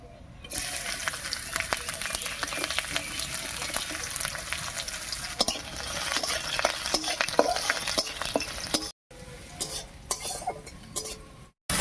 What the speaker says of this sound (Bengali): রসুন কুচি দিয়ে একটু নাড়িয়ে নিয়েছি